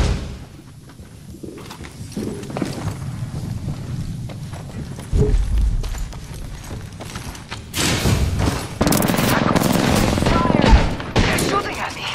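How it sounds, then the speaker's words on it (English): Enemy gunfire in a tactical shooter video game rattles in bursts over background rumble, with sharp volleys growing louder and denser toward the end, mixed with footstep-like thumps. "Fire! They're shooting at me!"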